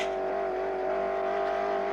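A car engine accelerating hard in fifth gear during a racing chase, a steady loud drone with strong sustained engine tones holding at a constant level throughout, no voices.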